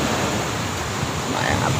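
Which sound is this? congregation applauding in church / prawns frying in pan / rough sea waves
rough sea waves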